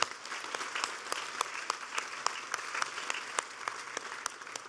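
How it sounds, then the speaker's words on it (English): An audience at a speech on the economy in Maryland breaks into sustained applause, dense clapping with sharp individual claps standing out, no voices heard. "that's the applause line"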